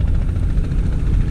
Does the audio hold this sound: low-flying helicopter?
yes